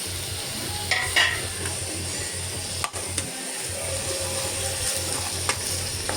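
Tomatoes sauté in a pan for sundal biryani, a steady sizzle under repeated scrapes and clacks of a stirring spoon, with a low mechanical hum running underneath and no voices.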